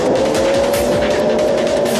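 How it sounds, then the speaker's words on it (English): Sprint cars race on the first lap at Williams Grove, Pennsylvania, engines roaring loud and steady as a pack, with a constant high whine, tire noise and no break in the din. "Lap 1 of a sprint car race."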